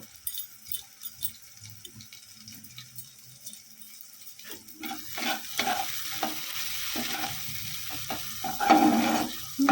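Spices and tomato sautéing in a pan, quiet at first, then a growing sizzle with repeated scraping stirs that become louder and busier toward the end.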